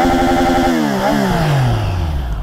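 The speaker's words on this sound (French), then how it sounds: "je vous fais écouter le bruit de l'échappement" A Triumph Trident 660 three-cylinder motorcycle's exhaust runs loud and close, a steady engine tone that revs up briefly and then falls back down to a low, even idle.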